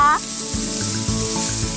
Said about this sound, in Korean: 삼겹살은 역시 숯불에 구워야 제맛이죠